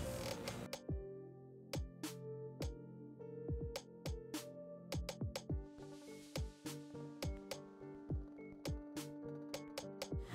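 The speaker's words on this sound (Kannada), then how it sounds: "ನೋಡಿ ಇಲ್ಲೂ ಕೂಡ ಡಬಲ್ ಹೊಲಿಗೆ ಹಾಕೋತಾ ಇದ್ದೀನಿ." A sewing machine double-stitches lace onto an umbrella frock, giving quiet, irregular mechanical clicks and creaks spaced through the stretch, with no talking.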